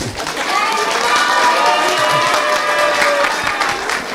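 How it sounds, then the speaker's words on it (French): An audience applauds a former Nice footballer, a full, sustained round of clapping that swells early and holds steady throughout, loud and close. "On peut l'applaudir."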